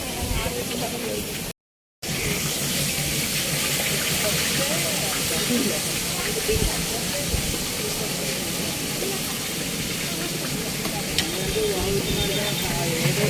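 Fish frying in oil at a beachside stall in Bapatla, a steady loud hiss and sizzle running throughout with people talking nearby and a brief dropout near the start.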